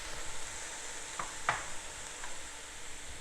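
Eggplant hits a hot pan for ratatouille and settles into a steady, soft frying sizzle, with a couple of faint clicks from stirring.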